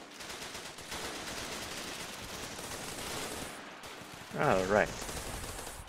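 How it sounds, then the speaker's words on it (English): A small fast-firing gun in the Running With Rifles war game rattles off rapid bursts at a fairly low level, followed by a louder sharp burst near the end; someone briefly speaks over it. "This little fast-firing gun is pretty accurate"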